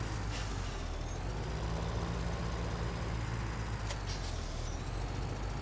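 Truck engine rumbling steadily in the Farming Simulator 17 video game, with a bright hiss of air brakes near the start and again around the four-second mark, heard alone without talk.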